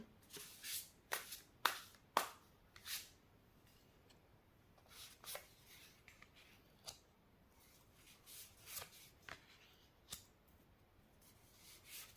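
Tarot cards shuffled and drawn by hand, a quiet run of close, sharp riffling and sliding bursts at irregular intervals, louder at first and then sparser, with no talking.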